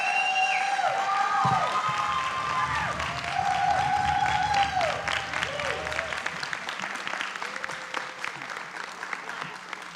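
A school board meeting audience applauds teachers and paraprofessionals with sustained clapping that gradually thins, while several voices talk and call out over it.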